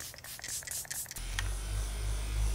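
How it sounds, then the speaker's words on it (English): Setting spray misted onto a made-up face during a makeup routine, soft scratchy hisses followed by a steadier close airy spray sound with low rumble beneath, no talk. "I'm gonna take more of the setting spray and I'm going to lock this in"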